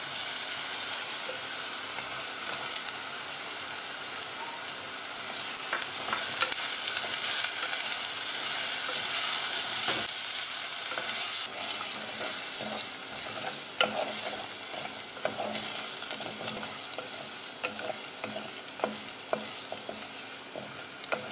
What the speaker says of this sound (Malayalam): നമുക്കിതിലേക്ക് ചുവന്നുള്ളിയും കൂടെ ചേർത്ത് വഴറ്റാം.